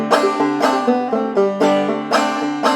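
Hangman's Reel picked on a string instrument with a hammer-on on the downbeat and the beat anticipated, giving a lilting, accented rhythm of bright, close notes with no talking.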